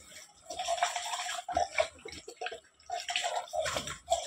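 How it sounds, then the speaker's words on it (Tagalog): Glasses rinsed under a running tap during dishwashing, a steady splashing stream that surges and breaks with brief pauses and clinks, close and fairly quiet. "paglilinis ng baso pagbabanlaw"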